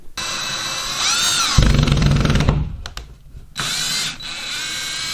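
A cordless drill driving screws through a drywall cutout into a wood chunk, close and loud, with rising whirring bursts, a low grinding stretch as a screw bites, a few clicks, then another short whirring burst.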